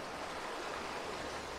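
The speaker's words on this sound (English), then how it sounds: "Just the sound of the river." An Alaskan wilderness river flows in a steady, even rush, close and continuous with no other sounds.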